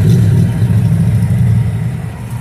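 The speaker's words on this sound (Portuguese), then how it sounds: "Olha quanta moto. Olha as motinhas aí agora, hein? Motinha tá tudo passando." Motorcycles pass on a road near Monte Verde, Minas Gerais, with a steady, fairly loud low engine rumble that continues throughout and fades slightly at the end. No one speaks.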